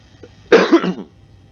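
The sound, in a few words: cough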